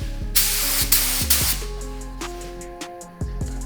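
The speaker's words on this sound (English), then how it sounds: "So I'm just gonna spray on the windscreen." Short bursts from a paint spray gun test-spraying onto a car windscreen: three loud hissing blasts in quick succession, then quieter spurts, over a steady background hum.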